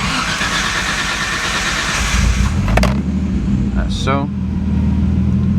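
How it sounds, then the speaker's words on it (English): The engine of a car, a Supra or S13, starts and builds to a loud, steady running drone with some revving. Brief clicks and a short voice cut through the sound. "if we start the car, you can see that the RPM"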